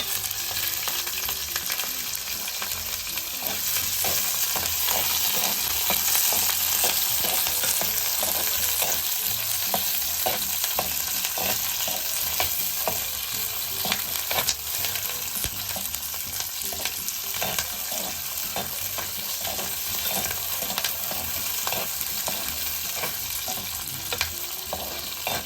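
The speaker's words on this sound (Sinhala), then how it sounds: "තෙල් ස්වල්පයක් දාලා අපි දැන් අරක මේ සාමාන්‍ය ගානට ලූණු ටික අපි තෙලට දාගන්න." Onions and broken chillies fry in a little oil in a clay pot for Sri Lankan jackfruit pickle, a loud, unbroken sizzle with rapid, rhythmic stirring scrapes throughout and no voices.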